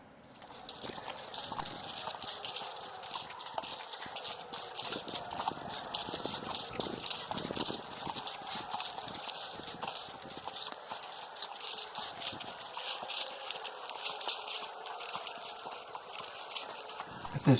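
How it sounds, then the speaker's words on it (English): Horse hooves clip-clop steadily on a December fox hunt ride in Virginia, with a continuous rhythmic clatter of hoofbeats and rustle throughout and a faint voice at times. "Nice shot again of Mary's beautiful horse there"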